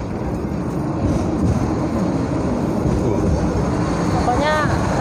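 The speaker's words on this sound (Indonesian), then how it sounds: "Kereta ting-ting." A Hong Kong tram running along its track, a loud steady rumble with rattling wheels and a brief ringing chime near the end.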